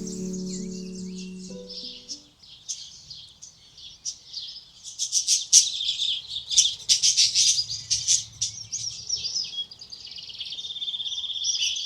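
Birds in garden aviaries at Waimate chirp, tweet and squawk in a lively, overlapping chorus, close and fairly loud, after a brief low hum at the start.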